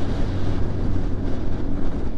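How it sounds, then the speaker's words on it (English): Wind blowing during a motorcycle ride on the way to Hook Head Lighthouse, a steady, heavy rumbling roar of wind buffeting the microphone, continuous and close with no other clear sounds. "The wind is picked up and stuff"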